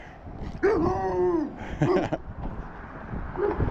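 A dog rushes up during a walk and lets out a short whining bark and yips, close by, with a second shorter yelp, over outdoor background noise.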